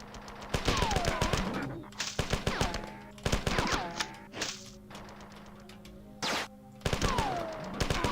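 Automated turrets in the classic Mac shooter Marathon fire at aliens in loud rapid bursts of machine-gun fire, several volleys with short pauses between them, mixed with thuds and a sliding electronic tone.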